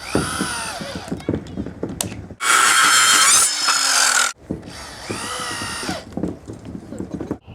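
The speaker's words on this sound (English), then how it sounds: "I'm about to put 1, 2, 3, 4, 5 screws in it." Power drill driving screws into an angled 45-degree 2x6 wood brace on a swing pergola, two loud sustained whirring bursts of a few seconds each, separated by clattering, tapping and handling noise up close.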